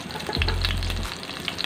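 Chopped onion frying in cooking oil for mochar ghonto, a steady close hiss and crackle of sizzling that runs through the whole moment, with a brief low hum partway through.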